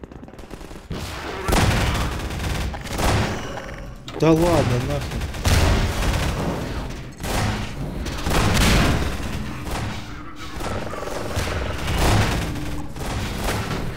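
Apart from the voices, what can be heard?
gunfire in the video game Half-Life 2: Episode One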